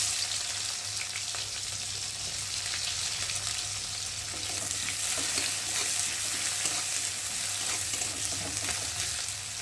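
Chopped onions sizzling in hot oil seasoned with black cumin seeds, a steady, close and fairly loud frying hiss with occasional stirring scrapes, heard alone without talk.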